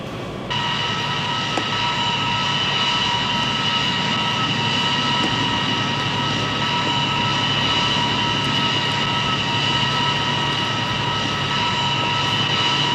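A plane's aircraft engine runs steadily nearby, a loud, continuous roaring whine with sustained high tones that holds unchanged throughout, with no talk.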